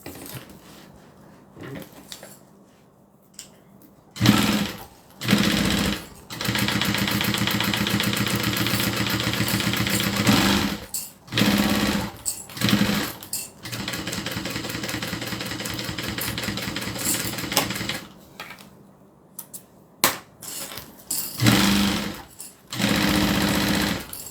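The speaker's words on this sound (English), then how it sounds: "I'm just going to stitch all the way around" A sewing machine stitches binding around a pot holder in bursts of steady, close running stitches, stopping and restarting several times with short pauses between.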